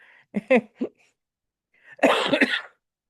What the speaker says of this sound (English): Yes, I still have my cough.